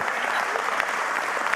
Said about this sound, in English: Give the contractors a round of applause